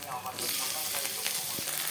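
Tomatoes go into a hot pan of frying ginger-garlic paste, giving a steady, broad sizzle with crackling throughout, close and fairly loud with no talking.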